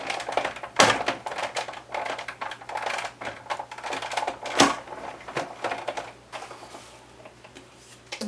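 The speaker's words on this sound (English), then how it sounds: "Now I'm going to put my cutting sheet on top, and I'm just going to run that through." A die-cutting machine pulls a cutting sheet through for paper crafting, giving a run of close, irregular mechanical clicks and ticks with a couple of heavier thunks, then fading quieter toward the end.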